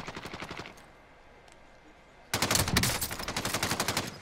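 Rapid automatic gunfire in a battle royale game, a short burst at first, a pause, then a louder, denser stretch of sustained shots.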